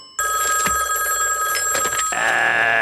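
A telephone rings in a cartoon scene, a call placed from a coin-operated payphone; a bright, steady electronic ring sounds loud and close for about two seconds, then shifts to a different tone.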